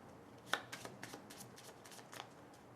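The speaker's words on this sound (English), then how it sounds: "as well as shuffle this card into the space deck" Cards from the Star Trek deck-building card game being shuffled into a deck, a few soft riffling bursts and flicks, faint and close, with no talking.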